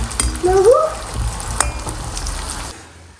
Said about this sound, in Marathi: थोडंसं तेल टाकून आता मी डीप फ्राय करून घेते